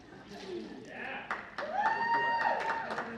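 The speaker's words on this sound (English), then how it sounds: "there's a raucous, crazy crowd in the corner over there" A hall of fame induction ceremony crowd cheers from the corner of the room, whoops and shouts rising over a steady wash of voices and scattered clapping.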